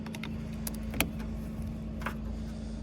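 A Chevy 6.5 turbo diesel engine idles steadily with a constant low hum, while a few faint clicks and taps rise above it.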